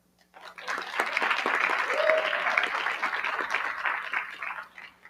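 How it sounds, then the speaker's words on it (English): An indoor audience claps together at a meeting, swelling into dense, sustained applause for several seconds before tapering off, with a faint steady hum underneath. "let us applaud you in person"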